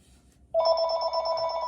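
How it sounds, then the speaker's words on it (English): A landline house phone rings with a steady electronic trill that starts abruptly partway through and continues loud and clear, alone, with no voices. "There's that same damn call. I'm not answering that."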